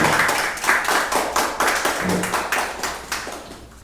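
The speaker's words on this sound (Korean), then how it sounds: "한 번 더 박수하겠습니다." Audience at a church seminar claps together, a dense steady round of handclaps with a slightly uneven pulse that holds for several seconds and thins toward the end.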